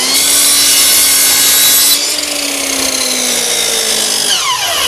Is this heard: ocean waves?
no